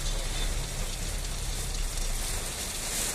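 Steady rain pours down in a dense, continuous hiss, loud and close, with no breaks.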